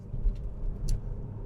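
A 2021 Ford Puma ST driving on tight, twisty back roads full of big potholes gives a steady, close, low engine and road rumble with no one talking.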